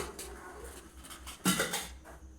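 A stainless steel pan lid is handled in a kitchen, giving a few light metallic clinks and one sharper clatter midway, close and fairly quiet.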